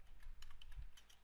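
Computer keyboard typing at close range, a quick irregular run of soft key clicks and taps over a low background hum, with no talking.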